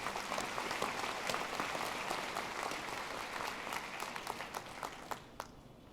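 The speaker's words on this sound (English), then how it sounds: "let's give her a round of applause as well" Steady applause fills a university commencement ceremony hall, a broad wash of many hands clapping that holds evenly and then thins into scattered individual claps before fading out.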